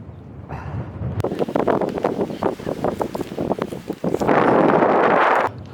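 Strong wind gusts outdoors near Portchester castle in the UK buffet the microphone with a loud, rumbling roar that swells and eases over several seconds, with no speech.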